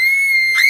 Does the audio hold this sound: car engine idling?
no